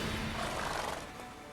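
Roach, the horse in The Witcher 3, lets out a brief, close neigh with a rising then falling whinny and breathy snorts underneath, all packed into about a second and a half.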